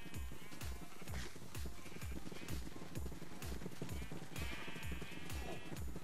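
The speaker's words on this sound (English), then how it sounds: "The sheep's going straight for me" Sheep in a Minecraft minigame bleat over a fast, regular thumping beat, loud and continuous through the whole stretch.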